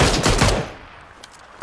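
A short burst of Mini 14 rifle fire in PUBG, several quick loud shots close together up front, then a fading tail and one more shot starting at the very end.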